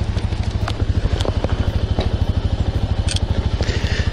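A motorcycle engine runs steadily close by, a loud rapid chugging pulse that holds for about four seconds, with faint clatter on top.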